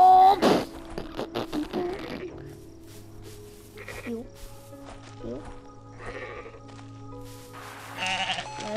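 Goat bleats from the video game Goat Simulator sound several times, short quavering cries scattered among clicks and game effects, with a louder bleat near the end and a person talking over parts.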